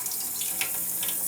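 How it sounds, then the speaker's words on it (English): A sensor-activated sink faucet runs steadily, water splashing down over a forearm in a continuous close hiss, with no talking. "all I'm going to do is run the water, probably put my opposite hand in front of the sensor"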